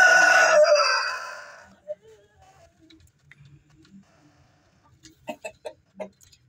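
A heritage Parrot Rock cross-breed hen clucks nearby, a loud burst at the start followed by a few quieter scattered clucks and short calls spaced out over the rest of the clip.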